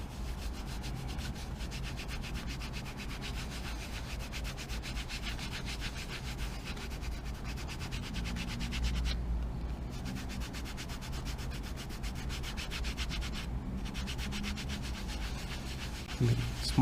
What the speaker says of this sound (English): Make small circles so that it can cover all areas of the leather.